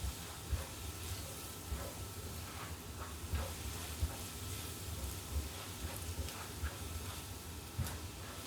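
Potatoes and meat sizzle and hiss steadily in a frying pan, with soft irregular scraping and knocks as they are stirred, fairly quiet and without talk.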